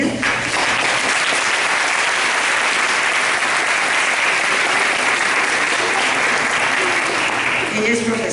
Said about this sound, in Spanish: voy a agradecer que reciban con un fuerte aplauso a la doctora María Elena